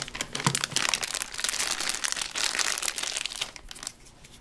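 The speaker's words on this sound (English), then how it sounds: "So first, we're gonna unwrap the Play-Doh." Plastic wrapping crinkled and torn open from a tub of Play-Doh, loud close crackling and rustling for a few seconds.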